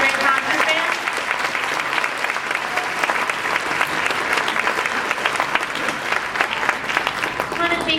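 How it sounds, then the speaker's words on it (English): Sustained audience applause fills a school winter concert hall after a 7th grade concert band performance, steady and dense clapping throughout with a faint murmur of voices mixed in. "We have another round of applause for Mr. Tiedemann and the 7th grade concert"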